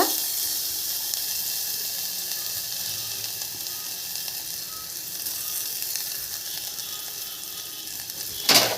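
Garlic frying in a little hot oil for amaranth root soup makes a steady, even sizzle that holds throughout, with a brief louder scrape right at the end.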